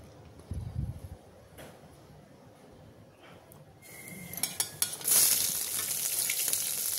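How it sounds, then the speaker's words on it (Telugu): Bay leaf, cinnamon, cloves and cardamom frying in hot ghee and oil for plain kuska biryani, a quiet start that swells into a bright, steady sizzle with a few clicks and scrapes, no talking. "ఇదంతా బాగా వేడెక్కిన తర్వాత బిర్యానీ ఆకు, చెక్క, లవంగ, ఇలాచి ఇవన్నీ వేసుకొని ఫ్రై చేసుకుందాం అండి."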